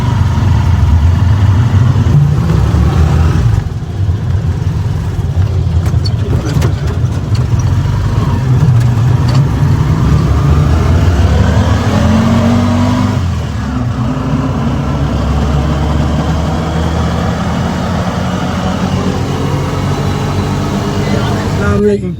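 Auto-rickshaw engine runs steadily throughout a ride, a loud continuous low drone with rattling, joined by talk and street noise.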